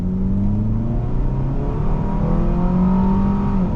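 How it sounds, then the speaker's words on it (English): A 2002 Honda Accord SE accelerating hard from a standstill to 60 mph, engine drone rising steadily in pitch, heard from inside the cabin, loud and continuous. "let's make a U-turn and do our normal 0 to 60 test, see how quick this Accord is to 60"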